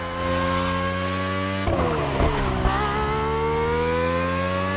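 A race car engine in The Crew Motorfest driving game holds a steady, loud whine at high revs, with a brief roughening mid-way as it shifts, then settles back into a sustained drone.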